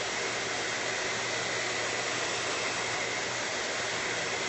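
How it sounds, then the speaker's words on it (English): A hair dryer blows with a steady, loud whooshing roar that continues without a break. "Now this hairdryer gets really, really hot"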